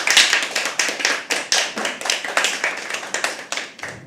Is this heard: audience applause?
yes